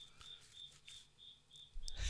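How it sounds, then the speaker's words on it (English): A cricket hidden indoors in a house chirps in steady, evenly spaced bursts, faint and fairly distant, with a brief louder knock near the end. "There's a cricket in our house, and I don't know where the heck it is."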